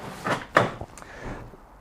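A garage storage drawer holding cleaning cloths slides open with a short scraping rattle and a brief knock, followed by faint rustling, close and fairly quiet.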